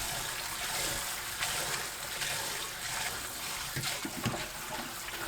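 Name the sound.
draining and rinsing blanched lotus root in water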